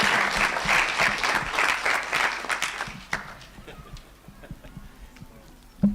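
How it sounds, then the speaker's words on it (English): Conference audience applauding a three-member panel and its moderator, dense clapping at first that thins to scattered claps and fades out, then a few final claps. "I would ask you really to applaud the three speakers or the three panelists"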